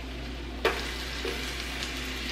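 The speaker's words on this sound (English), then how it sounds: "I'm going to go ahead and add my pineapples in there." Pineapple pieces go into a hot frying pan, giving a sharp hiss on contact, then a steady sizzle with small stirring clicks and scrapes, close up with no talking.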